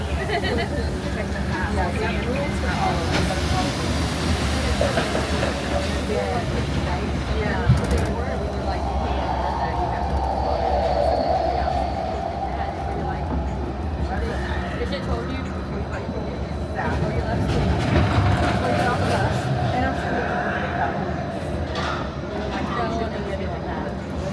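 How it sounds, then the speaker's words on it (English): A Disneyland Tomorrowland monorail running with a steady low rumble and hum from inside the car, while people talk over it throughout. "We're now approaching the Tomorrowland Monorail station, our final destination."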